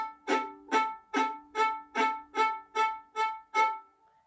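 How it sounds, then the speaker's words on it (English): Nine short, evenly spaced spiccato violin notes bowed at the frog, bouncing off the string, each a crisp brushy stroke with a quick decay, played alone and close. "examine a little bit how the bow is bouncing on the different parts"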